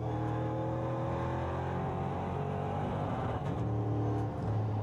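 A NASCAR race car lapping the circuit at Most, Czechia, heard from on board as a loud, constant engine roar with shifting pitch and brief dips as it changes gear, with no talking.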